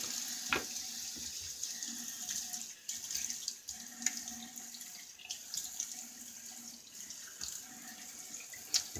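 A bathroom tap runs steadily into a sink while a man wets his face before shaving, with soft splashes and hand movements in the stream and no speech.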